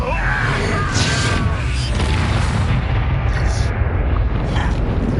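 Incendio fire spell blast in Hogwarts Legacy, a heavy booming burst with rumbling roar that sustains through the stretch, loud and close, with a voice shouting over the start.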